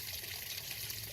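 Steady, faint trickle of water from a running filter in a backyard brackish-water pond, a continuous soft splash with no breaks.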